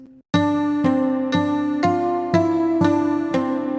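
Music with a rhythmic plucked guitar layer repeating a bright chord pattern, struck roughly every half second over a sustained tonal bed.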